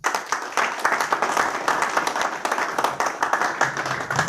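An audience at a ceremony honouring visually impaired achievers in Goa claps together, a dense, steady burst of many hands that keeps going evenly for several seconds with a few voices faintly underneath.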